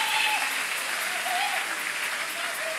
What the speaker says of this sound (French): Nous pouvons acclamer fortement pour Jésus-Christ.